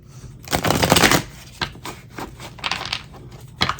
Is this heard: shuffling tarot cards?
yes